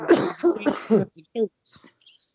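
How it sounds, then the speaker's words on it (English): A few sharp coughs in quick succession, close to the microphone, followed by faint throat sounds and quiet breaths. "No, you coughed over me."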